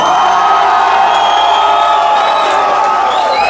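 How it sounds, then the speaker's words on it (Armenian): Wedding guests clapping and cheering, a loud, dense wall of crowd noise with whoops and shouting voices sustained throughout, applause blended into the roar. "հիմա այս պահին Տիգրանի բարեկամներն են ծափ տալի"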